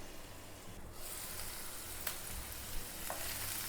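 Broccoli sautés in a pan, giving a faint, steady hiss of frying with a couple of soft stirring clicks.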